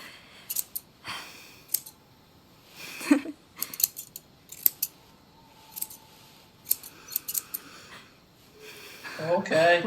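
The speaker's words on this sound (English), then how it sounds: "Rusty pair of scissors." A rusty pair of scissors snips hair in the game Tell Me Why, giving sharp, scattered clicks and cuts over about ten seconds against quiet room tone, with a voice starting at the end.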